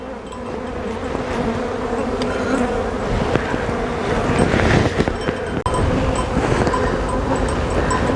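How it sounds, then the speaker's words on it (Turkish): Dense, steady buzzing of many honeybees up close on a bee cake of powdered sugar and honey, a continuous droning hum that swells slightly midway, with no voices. "Bu şekilde kapatma işlemini gördüğünüz arılar hemen arı kekine sardı."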